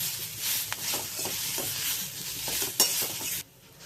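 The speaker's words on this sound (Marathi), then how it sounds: "हळद पण छान मिक्स करून घ्यायची आहे." Turmeric being stirred into a frying radish and moong dal chutney mixture in a pan, soft scraping stirs with a light sizzle and a clink of the utensil before the sound drops away, no talking.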